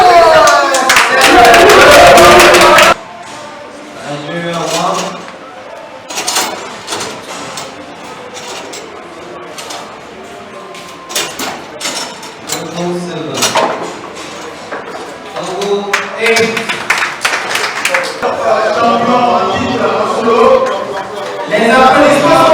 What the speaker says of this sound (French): Les applaudissements sont faits maintenant